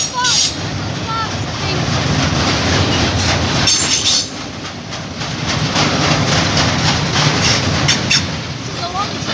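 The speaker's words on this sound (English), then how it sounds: "This is a long train." A long freight train passes a level crossing on Romanby Road in Northallerton, loud and close, with rolling wheel clatter, metallic squeals and steady rumble. People talk briefly over it.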